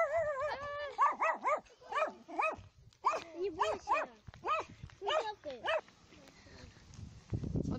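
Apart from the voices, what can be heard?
dog barking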